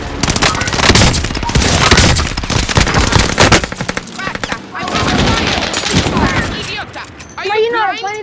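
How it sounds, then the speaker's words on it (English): Rapid bursts of gunfire from Call of Duty: Modern Warfare, including sniper rifle shots, crackle loudly and densely throughout, with players talking over the shooting and a brief tonal game cue near the end. "I'll just snipe him out the air"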